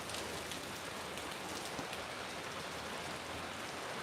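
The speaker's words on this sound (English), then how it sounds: "It's hail, but it's not hail like you get there in the Midwest. It's all small, like pea size." Small pea-size hail falls outside a shop, making a dense, steady hiss of tiny impacts, close and even throughout with no talking.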